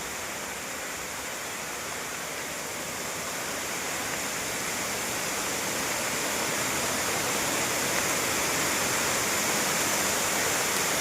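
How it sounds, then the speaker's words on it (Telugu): A waterfall near Sringeri roars steadily and loudly, a dense continuous rush of falling water that slowly swells over several seconds, with no voices. "చూడండి ఎంత బాగుందో జలపాతం"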